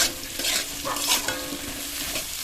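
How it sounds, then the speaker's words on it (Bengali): Salt, turmeric, red chilli powder and ginger paste frying over a low flame in a pan, stirred continuously with a steady sizzle and scraping, close and fairly loud with no voices. "লো ফ্লেমে 2 মিনিট ভেজে নিয়েছি।"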